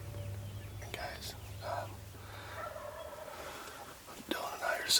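Wild turkeys gobbling at a distance on a Nebraska morning hunt, a few rattling calls rising over a quiet outdoor background with faint whispering nearby.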